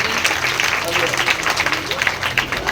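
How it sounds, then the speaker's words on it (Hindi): A large audience at a religious Bhagwat Katha gathering claps loudly and continuously, a thick crowd applause that holds at full strength throughout. "बहुत जोरदार ताली ठाकुर जी के लिए।"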